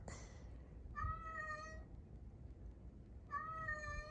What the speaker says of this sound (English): This little cat is in heat. That's why she's making so many noises.